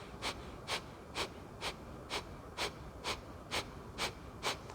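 Fast, shallow rhythmic breaths during a pranayama yoga exercise, about ten sharp nasal exhalations spaced evenly at roughly two per second, close and clear with no talking.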